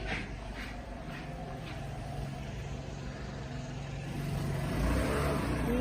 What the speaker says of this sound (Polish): jedzie ktoś do szkoły, skuterkiem akurat